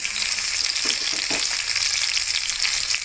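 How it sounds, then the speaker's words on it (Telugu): Chopped onions fry in a hot pan for chicken fry, giving a steady, loud, close sizzle with a few brief stirring scrapes and no talking. "కలర్ చేసుకున్న ఆనియన్స్ కూడా వేయించుకోవాలి రెడ్ కలర్ వచ్చేదాకా"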